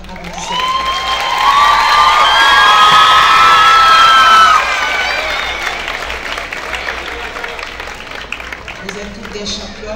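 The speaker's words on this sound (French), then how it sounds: "Les parents applaudissent." Parents at a school dance gala applaud and cheer after a performance, a loud crowd of clapping with shouts and high whoops swelling over the first few seconds, then fading to scattered applause.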